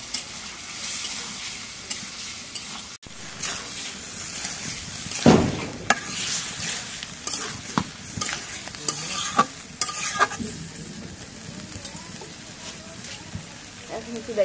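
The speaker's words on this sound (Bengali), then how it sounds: "এখন মশলাটা কষা লেগে গেছে, আলুগুলো দিয়ে দিই।" Potatoes being added to a spice masala for aloo dum and frying in a pan, with steady sizzling and repeated scraping stirs. A voice talks faintly in the background at times.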